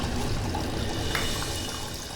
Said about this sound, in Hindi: शर्मिला, इस टाइम में तो पानी की जगह खून निकला